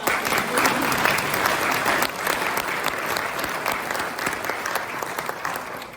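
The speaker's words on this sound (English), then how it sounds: "Let's give him a round of applause." An audience applauds the owner of a restored building at a Moline, Illinois State of the City 2025 address, a dense, steady round of clapping that fills the room and tapers slightly toward the end.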